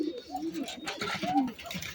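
Pigeons coo nearby in a tree, soft rolling low calls repeating through the short stretch, with faint background noise and no clear talking.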